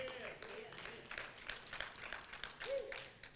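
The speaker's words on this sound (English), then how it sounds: "Give the Lord a clap offering." Church congregation clapping during a fellowship service, with a steady wash of scattered handclaps and crowd noise heard from a moderate distance and a few voices calling out over it.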